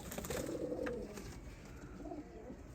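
A female Firozpuri breeder pigeon coos softly in a few low, throaty rolls close by, with steady background noise and no talking.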